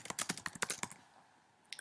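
A quick burst of keyboard typing, about a dozen rapid key clicks up close, then a short quiet pause and a couple more taps.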